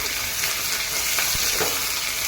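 Chicken pieces fry and sizzle in a hot pan for a chicken curry, a dense crackling hiss with a few stirring scrapes and clicks close by, no voices.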